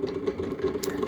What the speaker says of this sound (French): on entend que ça claque toujours à l'intérieur. Donc ça veut dire que les engrenages sont usés.